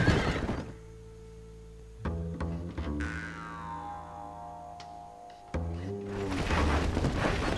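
A horse neighs loudly in Red Dead Redemption, a drawn-out whinny that falls in pitch, framed by thumps and a low rumble before and after, with no speech.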